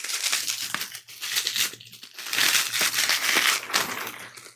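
Plastic poly mailer envelopes crinkle and crumple loudly and close by as they are handled in bursts, with no one talking.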